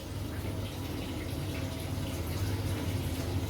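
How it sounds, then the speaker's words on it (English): Hot water runs steadily from a tap fed by an Ariston E Combi 30 boiler, making a constant broadband rushing flow with no pauses and no talking. "So we're just running the hot tap now."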